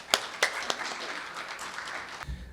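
Audience at a global university presidents' forum on physician-scientist training applauding a speaker's introduction, a few sharp claps followed by brief, moderate scattered clapping that ends quickly.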